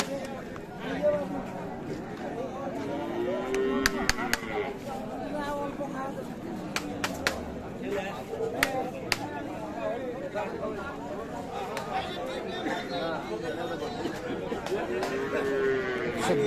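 Cattle lowing at Ambari cattle market, where cows with calves are sold; repeated moos rise above a steady crowd murmur with nearby voices and occasional sharp knocks.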